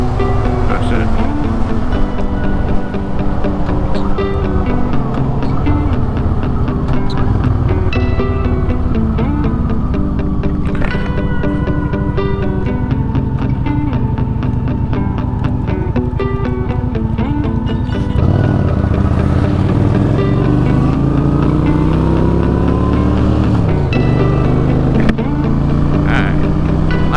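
A motorcycle rides on the road at about 60, its engine droning loudly with continuous wind rush and shifting pitch over a long stretch, while someone talks over it.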